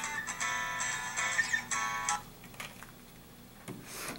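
A phone rings in a classroom, a bright warbling tone repeating in short bursts for about two seconds, then fading to quiet room tone with faint clicks.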